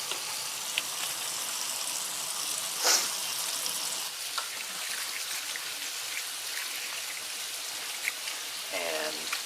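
Elk bacon burgers sizzle in a pan with a soft, steady crackling hiss, fairly quiet and continuous, with a few faint clinks and no speech over it.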